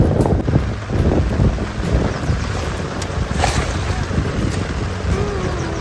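Strong wind buffets the microphone in heavy low rumbling gusts at a shrimp farm in New Mumbai, with water and waves faintly audible beneath.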